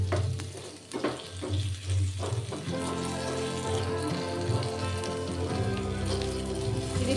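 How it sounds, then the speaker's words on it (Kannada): Food fries in oil on a low flame, giving a steady crackling sizzle with soft clinks and stirring noises near the start, then an even hiss to the end. "ಇದು ಆಯಿಲಲ್ಲೇ ಫ್ರೈ ಆಗಬೇಕು"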